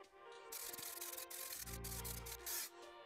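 Primer sprays from an aerosol in a light mist coat onto a classic MG Rostyle wheel, a close, continuous hiss with brief breaks and shifts in intensity, no talking.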